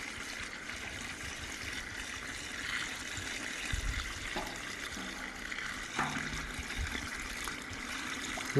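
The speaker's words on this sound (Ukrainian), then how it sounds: "заливаємо воду, яка нагрілась на сонці" Sun-warmed water pours into a home autoclave used for canning chicken, a continuous close trickling and splashing stream that runs steadily throughout.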